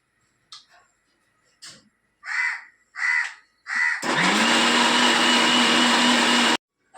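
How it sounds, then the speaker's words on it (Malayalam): A mixer grinder grinding curry paste for a fish curry, first in a few short bursts, then running in one loud, continuous whirring roar for a couple of seconds before cutting off. "അത് അരയ്ക്കാൻ വേണ്ടി വെക്കാം"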